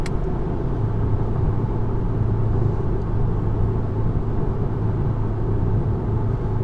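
A Volkswagen Golf's engine drones steadily from inside the front-wheel-drive hatchback while driving, a constant low rumble with road noise holding an even level throughout, no talking.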